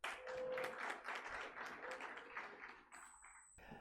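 Audience applause greeting a panelist at a conference discussion on funding priorities in India, a steady wash of many hands clapping that fades slightly toward the end.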